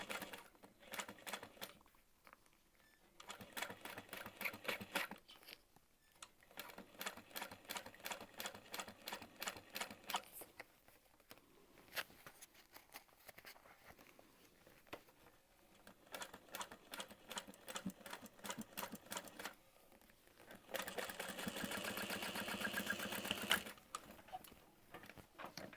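A sewing machine stitching a Rachel handbag, rapid mechanical needle clatter running in several bursts separated by short pauses, close and fairly quiet, with a longer, denser run near the end.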